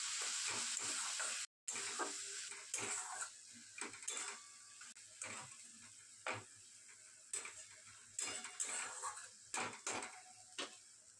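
Spiced food fries softly in a pan while being stirred, a quiet sizzle broken by scattered scraping clicks and taps of a spoon against the metal.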